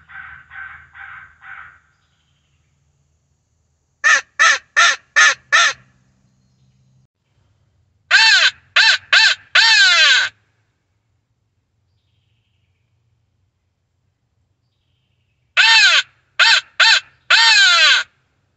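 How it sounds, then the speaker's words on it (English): Crow calling during an Indiana evening hunt, sharp loud caws in bursts of four to five, spaced out with silent gaps between groups, clear and alone with no voices. "We've only heard that one crow far off"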